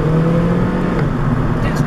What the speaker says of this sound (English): That guy's driving around without a door on his car.